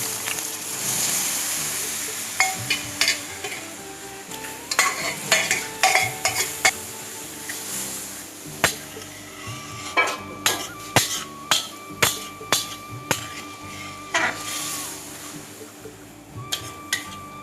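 Chicken keema ghugni being stir-fried in a pan, with repeated sharp clinks of a metal spatula scraping and knocking the pan over a steady low sizzle, the strokes coming in quick rhythmic bursts.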